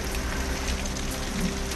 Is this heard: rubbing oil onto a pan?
no